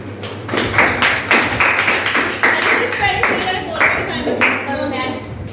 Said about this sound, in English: Clap for Ali Saeed.